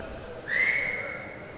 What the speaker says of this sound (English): is whistling back at him